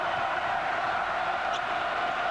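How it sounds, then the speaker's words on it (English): Duke basketball home crowd in 1996 against NC State, a steady loud roar of cheering and shouting filling the arena without pause. "The Duke crowd, they've just been going bonkers"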